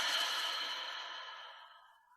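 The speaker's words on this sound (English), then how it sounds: "a big breath in and a big breath out" A single deep breath during a breathwork session, a soft airy exhale heard up close that fades gradually over about two seconds.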